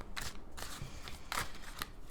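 Soft papery riffling of tarot cards shuffled in several short bursts, close and fairly quiet, with no voices.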